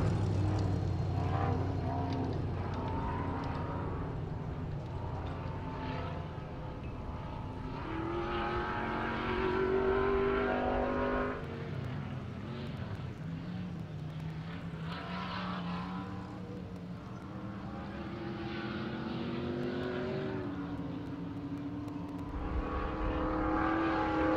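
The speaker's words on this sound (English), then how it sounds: "A lot of the cars are leading out, taking that wide right turn." Off-road race cars roaring across the desert at the King of the Hammers qualifying race, loud engines revving and shifting continuously for the whole stretch, one car passing after another with no talking.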